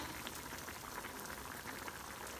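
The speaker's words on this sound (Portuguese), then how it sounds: "Começou a ferver, vamos ver como é que tá." Tilapia fillet in tomato sauce bubbles in a pan on low heat, with watery juices from the tomato and fish. The simmer gives a steady, dense crackle and fizz that runs without a break and with no talk over it.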